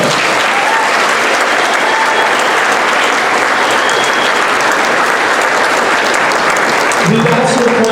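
Audience at a spring band concert gives a student band a sustained round of applause, dense continuous clapping filling the room at a steady level, with a few voices and a low rumble near the end.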